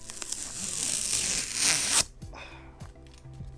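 Protective film peeled off a Nikon D3500 DSLR camera, a close, sustained crackling tear that ends abruptly, followed by a few faint handling sounds, with no talking.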